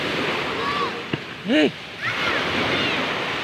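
Ocean waves rolling in off a Philippine fishing boat at sea, a steady wash of surf and wind noise throughout, with a brief shout and a short voice passing over it.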